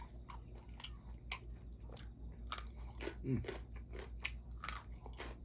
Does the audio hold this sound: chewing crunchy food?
yes